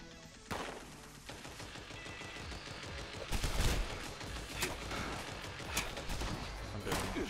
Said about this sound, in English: that sounds like an automated turret